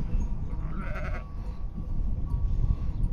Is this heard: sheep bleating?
yes